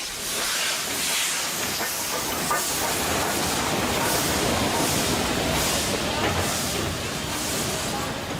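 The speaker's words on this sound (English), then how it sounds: "Nothing evokes the romance of the railway like a steam engine. Her arrival into Pondicherry Station is a grand event" A steam locomotive arrives at Pondicherry Station in India, a loud continuous hiss of steam mixed with rolling rail noise and faint wheel clatter, steady and close for the whole stretch, with a narrator talking over it.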